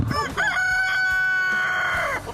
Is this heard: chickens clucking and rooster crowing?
yes